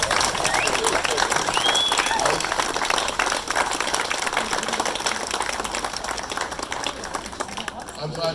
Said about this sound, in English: Let us give a round of applause for Alex McGregor.